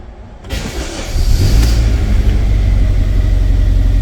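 Starter motor cranking an LPG car engine that has trouble starting, a loud, close mechanical rumble that begins abruptly and churns on steadily with a rapid pulsing rhythm.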